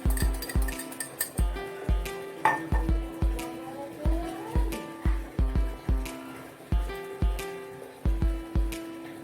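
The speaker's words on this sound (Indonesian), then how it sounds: "Ini mengocok telur, tadi sudah mengocok santan." A fork beats egg in a container during a lipid emulsion lab practical, striking the sides in a steady, close series of crisp clinks, roughly two or three per second, with no talking.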